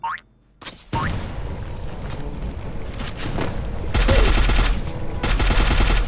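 SCAR rifle in the Free Fire battle royale game firing continuous rapid bursts, loud and close, growing denser and heavier toward the end with a few whooshing effects mixed in.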